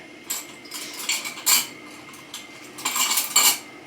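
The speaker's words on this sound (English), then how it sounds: "A little coffee, a little espresso for us to take espresso together. In fact, it's probably going to need a little stir." Spoon clinking against an espresso cup while stirring, bright metallic taps and scrapes coming in short bursts with pauses between, close and fairly loud.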